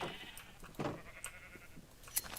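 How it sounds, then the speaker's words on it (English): Light blue sheep in a video game give a short bleat near the start, with softer bleats and small game noises scattered through the rest. "those are light blue sheep over here"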